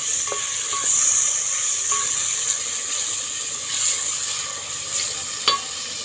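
Browned onions fry in a pan as ginger is added and stirred, giving a steady soft sizzle with occasional light spatula clicks against the pan, close and without talk.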